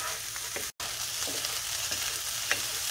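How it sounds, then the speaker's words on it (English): Rice and vegetables stir-fry in a hot pan with a constant sizzle, broken by several scraping strokes of the spatula and one brief dropout, and no voices. "So we're going to stir this rice and the vegetable for a few minutes."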